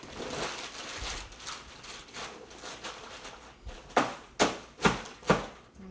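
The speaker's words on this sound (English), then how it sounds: "I'm gonna break off some chunks with my hammer" Four sharp, hard blows ring out one after another toward the end, a hammer cracking chunks of dry ice, after quieter scraping and tapping.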